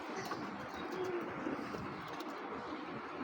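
Soft, low cooing from a black checker racing pigeon, faint and intermittent over a steady background hum, with no talking.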